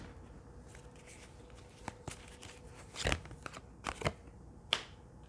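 Tarot cards are handled and set down side by side, with soft shuffling, papery slides and a few sharp taps over a low steady background hiss, no voices.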